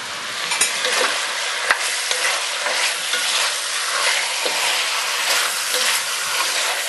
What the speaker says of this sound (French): Faire brunir la viande pour empêcher les sucs de quitter la viande lors de la cuisson.